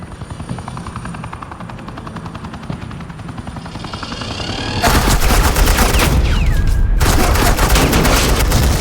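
Gunfire in the Batman: The Enemy Within game: after a steady helicopter-like rotor drone, loud dense bursts of rapid shots erupt, break off briefly with a descending whine, then resume as sustained fire.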